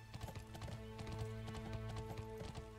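A horse walks along a path in the online game Bless Online, making quiet, steady clip-clop hoofbeats in an even rhythm over a faint background hum, with no talk.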